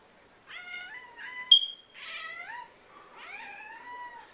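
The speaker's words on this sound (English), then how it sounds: "Just a fire alarm." A smoke alarm gives a single short, steady high chirp in the middle, surrounded by repeated close, wavering meows from a cat.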